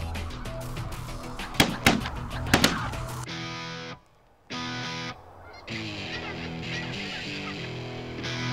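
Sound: geese honking

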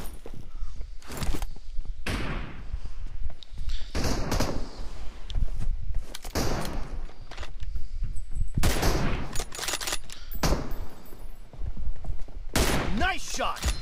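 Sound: gunfire in the video game BGMI

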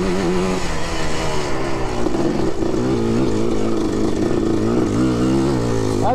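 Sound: Yamaha Blaster 200 quad engine revving in sand

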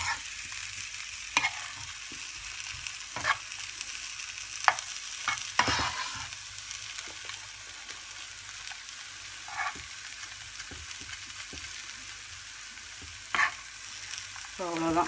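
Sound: spices frying in oil for egg masala

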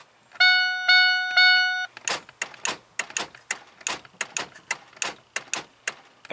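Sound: relay clicking in van body control module

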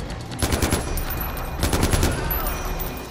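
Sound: gunfire from a gun in the video game Far Cry 4

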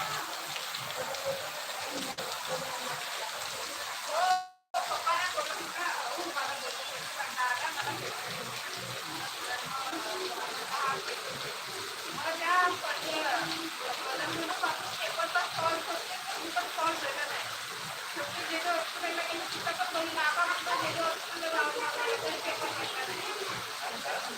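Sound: rain

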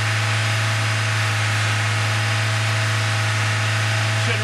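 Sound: car engine revving up to about 2,000 RPM

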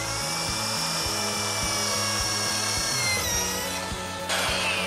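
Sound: drilling through a snowmobile track for studs

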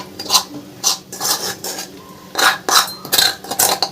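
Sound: dal being scooped from pan onto a plate

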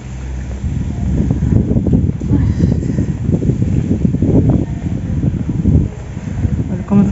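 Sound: wind

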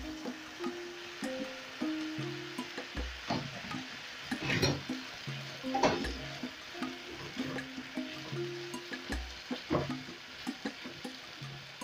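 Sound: chicken liver added to the pan, frying and stirring

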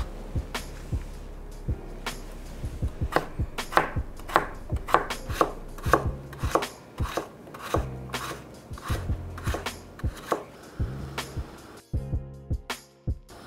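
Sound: dicing potatoes with a knife

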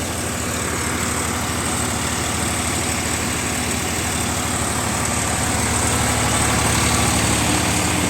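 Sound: tractor engine idling

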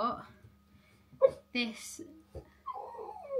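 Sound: dog barking

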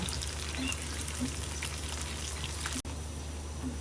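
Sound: chicken lollipops frying in oil

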